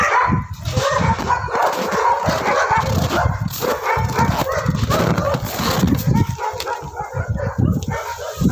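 Several dogs at a shelter in Surgut bark and yip in quick, overlapping bursts, close and loud, with occasional whimpers and a voice speaking faintly underneath.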